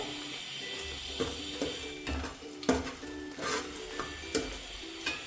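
Whole spices, cardamom, cinnamon, cloves, star anise, bay leaf and kasuri methi, frying in oil for chicken biryani, a steady soft sizzle broken by intermittent spoon scrapes and clinks against the pot, close and unvoiced.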